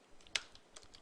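Several quick keystrokes on a computer keyboard while typing code, with one sharp louder click among lighter taps, close and quiet with no talk.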